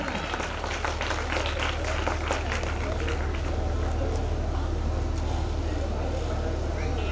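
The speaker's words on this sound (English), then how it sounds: "Give a big applause for Arunika." Applause at a school annual function after a Qawwali Sufi performance, a broad wash of many hands clapping over a steady low hum, with crowd murmur and voices mixed in throughout.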